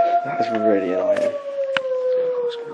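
A dog howls in long drawn-out tones at Cilgerran Castle, loud and continuous with a short harmonic whine near the start and a sharp knock midway.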